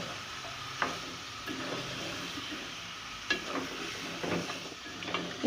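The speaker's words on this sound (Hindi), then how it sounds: "इस तरह मिक्स करें कि मसाला तमाम चिकन में अच्छी तरह से लग जाए" Powdered spices being stirred into chicken korma in a pan, with a soft continuous sizzle and a few scattered scraping strokes of the spoon against the pan, fairly quiet and without any talk.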